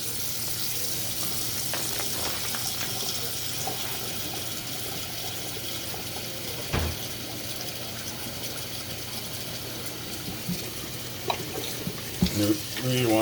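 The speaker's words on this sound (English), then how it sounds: "Run cold water over it." A kitchen tap runs cold water steadily over a cut-up rack of pork ribs. The gushing stream stays constant and close, with a few splashy knocks toward the end.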